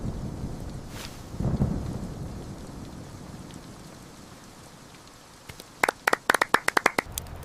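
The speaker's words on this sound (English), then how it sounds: "The storm raged on" Rain patters steadily through a violent thunderstorm, with a low rumble of thunder early on and sharp bursts of loud, close drops or cracks clustering near the end.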